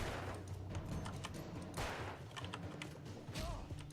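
Gunfire in the video game Alan Wake, a few sharp bursts of shots among rumbling thuds and clatter, fairly quiet overall.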